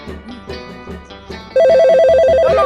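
A telephone rings with a loud, steady electronic trilling tone that cuts in abruptly partway through, following a rhythmic musical backing.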